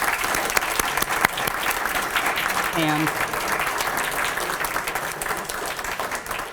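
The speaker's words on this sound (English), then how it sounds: "I'd like you to help me give a great round of applause to Masa." An audience at a lecture gives a sustained round of applause, dense continuous clapping with a brief voice heard over it.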